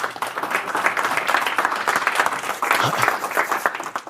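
An audience at a live Cashflow 101 game event in Woodland Hills claps for military service members, a brisk, fairly close round of applause holding steady for several seconds with a slight swell near the end.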